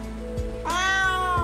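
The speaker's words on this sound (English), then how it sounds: "She's a very savvy cat." A purebred Tonkinese cat lets out one clear, drawn-out meow at close range, with soft rustling before it in an otherwise quiet room.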